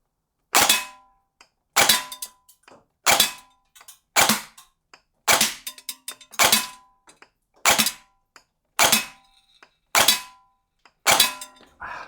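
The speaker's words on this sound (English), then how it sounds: "We're going to shoot 10 rounds in semi-auto first, and then we're going to do some full auto." A Novritsch SSR77 A1 AEG airsoft rifle fires ten separate semi-auto shots, each a sharp, close mechanical crack at a steady pace of roughly one per second, with brief pauses between and no talking.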